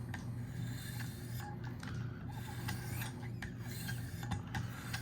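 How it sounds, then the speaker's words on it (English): S90V steel blade of a Spyderco Shaman knife stroked on a Wicked Edge diamond plate, soft close scraping rasps in a loose repeating rhythm over a low steady hum, quiet and without speech. "diamond that we're on right now"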